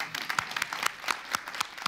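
A small group of classmates claps for an eleven-year-old, the claps sparse and individually distinct in an uneven rhythm, fairly faint and with no talking.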